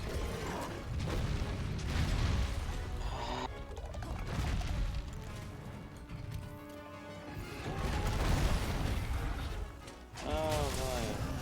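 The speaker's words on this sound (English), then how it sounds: "Oh boy, lots of explosions." Explosions and crashing impacts during a monster fight in Monster Hunter World: Iceborne, a dense run of booming bursts and smashes with a player's voice talking over the game.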